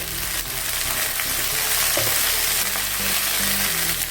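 A cup of mint leaves sautés with onions in a pan for mint vegetable kurma, giving a loud, dense frying sizzle with stirring scrapes and a low steady hum running through it, no talking.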